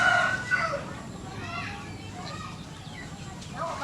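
A rooster crows faintly in the distance while voices talk and children play nearby.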